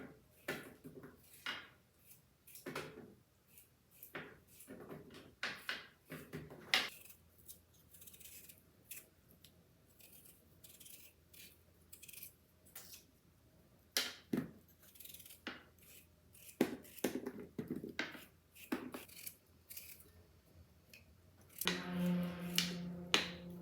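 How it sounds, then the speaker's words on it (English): Potatoes being peeled by hand with a peeler: a long run of quiet, irregular scraping strokes and small clicks, close and faint, ending in a brief louder clattering burst. "got my potatoes peeled"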